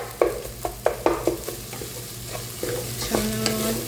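A spoon stirs tomato and turmeric frying in a pan with oil, giving a string of near scraping knocks over a steady sizzle, then a louder burst of frying toward the end.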